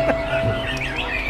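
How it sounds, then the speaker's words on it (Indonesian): A white-rumped shama (murai batu) from Rangkas Serang sings a quick run of varied, close whistled notes and chirps over a steady background hum, with no voices. "Jadi murai batu Robert punya Sanusi ya"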